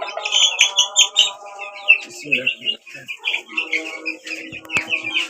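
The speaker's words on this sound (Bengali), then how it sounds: "আমার পছন্দের মুরগিগুলো আমি একটু দেখাবো" Chickens clucking and calling at feeding time in a bird house, several hens close by with busy overlapping clucks and short cries, plus faint background chirps.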